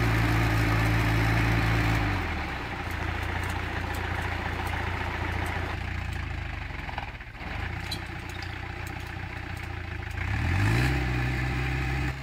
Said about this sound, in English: The driver steps on the accelerator and slowly pulls the trailer up the hill.